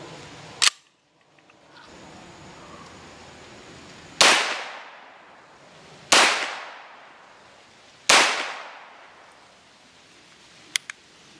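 Four sharp gunshots from a CZ Scorpion EVO-K short-barreled rifle being sighted in at a target, each a loud crack with a decaying echo, spaced about two seconds apart, followed by faint metallic clicks.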